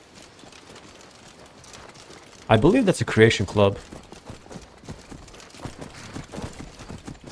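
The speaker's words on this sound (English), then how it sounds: "Oh, there's a wild horse." In the Skyrim video game, a wild horse's hooves clip-clop in a brief burst of sharp, close thumps, while someone talks quietly before and after.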